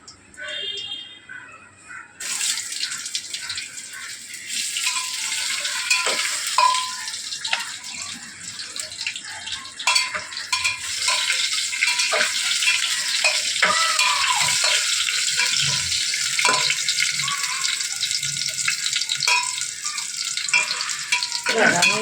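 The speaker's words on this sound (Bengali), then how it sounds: "আলুটা ভাজবো" Potatoes fry in a pan, with a loud, continuous sizzle that starts after a short quiet opening and holds steady, broken by scattered clinks and scrapes and a voice talking over parts of it.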